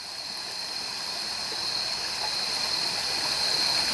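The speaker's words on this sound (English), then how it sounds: "here we are at the banks of Frog Creek" Steady broadband rush of creek water at the banks of a rain-swollen stream, continuous and even, growing slightly louder over a few seconds with no voices.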